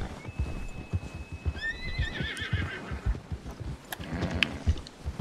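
A white Arabian horse in the Red Dead Redemption 2 video game gives a loud shrill whinny over steady clip-clop hoofbeats on snow, with more hoof thuds continuing after.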